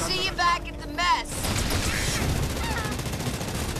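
Ground troops open fire in the video game Halo Wars 2, a rapid, continuous rattle of gunfire that takes over after a brief stretch of radio-style voices at the start.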